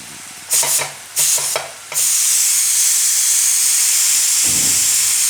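A pressure cooker of green urad dal is opened and steam rushes out in a loud, sustained hiss, preceded by a few short metallic clanks and bursts as the lid is handled.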